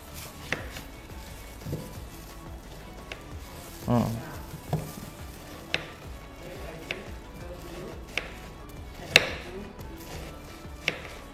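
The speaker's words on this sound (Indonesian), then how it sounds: "Kemudian yang kedua kita rajang untuk bawang putihnya ya dok" Garlic being chopped on a board with a knife, a series of separate, moderately loud chops spaced irregularly over steady background noise, with a voice speaking now and then.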